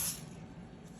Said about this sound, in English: I'm going to go in and spray the bottom with some canola oil spray.